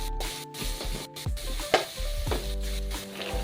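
Turmeric and goda masala sauté in a pan for a dry gavar bhaji, giving a soft, steady sizzle broken by a few scraping stirs of a spoon.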